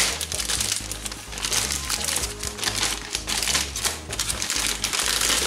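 A plastic model kit box for a 1:35 scale German Leichttraktor Rheinmetall 1930 tank is opened in a rapid run of close crinkling, crackling plastic and cardboard sounds.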